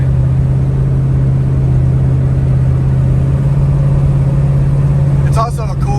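A 500hp Pontiac WS6 drives along, its engine holding a steady, loud low drone throughout, with a brief disturbance near the end.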